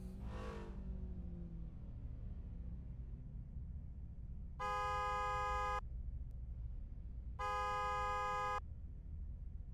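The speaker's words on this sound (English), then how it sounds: "We really enjoy and appreciate the horn honks, of course." Two long, steady car horn honks sound in a racing sim game with police-spec cars at Buttonwillow. They are evenly spaced and loud, over a low engine rumble, after a brief sweeping tone at the start.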